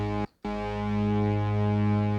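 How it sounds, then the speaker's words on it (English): An Access Virus TI synthesizer holds a steady, buzzy sustained tone with an LFO sweeping its stereo panning, broken by one short gap near the start before the note resumes and drones on. "what you can hear is the LFO kind of modulating the panorama"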